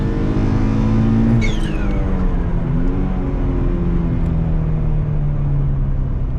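Twin-turbo Mustang accelerating hard, a loud, steady engine roar with a rising pitch that holds close and strong throughout, with no talking.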